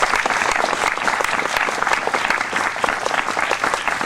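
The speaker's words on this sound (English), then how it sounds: "Let's give him a big round of applause." A crowd at a mayoral inauguration ceremony claps steadily for the new mayor, a dense, even burst of applause filling the room without pause.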